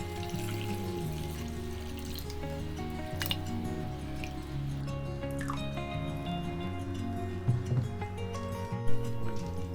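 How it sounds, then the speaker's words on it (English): Cooled rice water poured into a clay mud pot, a steady close trickling and splashing stream with a few drips and sloshes, no voices. "you need to pour it in the pot and leave it in the pot for the next 12 hours"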